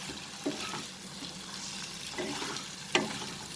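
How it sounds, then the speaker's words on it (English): Dried red chilies sauté with onion in a frying pan, giving a steady sizzle with a few soft stirring scrapes spaced through it. "Saute it along with the onion."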